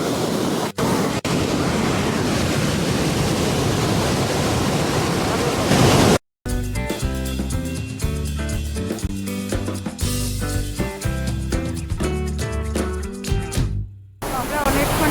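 Bhatinda Falls, a muddy, silt-laden waterfall, rushes as a loud steady broadband roar, with a brief cut near the middle and another near the end.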